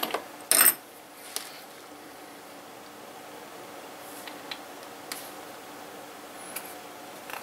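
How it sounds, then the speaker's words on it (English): A connector is pushed into a small plug on a simple homemade radio receiver setup: one sharp plastic click near the start, followed by faint scattered ticks and light handling noises in a quiet room. "now I just plug it into the socket and I've got an earth"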